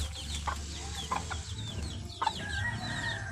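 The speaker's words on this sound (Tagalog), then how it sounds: "At dito naman tayo sa ating mga alaga mga sisiw. Gutom na din sila." Backyard chickens and hungry chicks in a Philippine coop, with busy clucking, sharp peeps and a rooster-like call rising over a constant low farmyard din, several birds close by.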